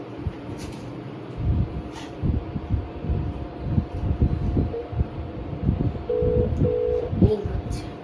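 A phone call rings out with a few short ringback tones near the end, heard faintly over windy rumble and background noise.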